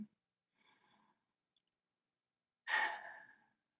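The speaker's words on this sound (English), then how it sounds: "Take a deep breath in." A person draws a deep breath in, heard close and alone as a faint short intake followed by a louder, longer breathy rush of air.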